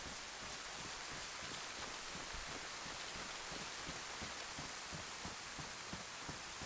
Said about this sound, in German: Ist ja hier im Wald regnet's weniger.